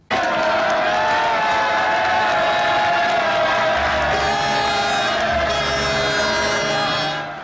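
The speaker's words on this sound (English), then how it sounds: "Everywhere that you looked was small boats packed with people to cheer us in." A large crowd cheers and whoops nonstop as Falklands War ships return to port, greeted by small boats packed with people, a loud, dense roar of voices and applause sustained throughout.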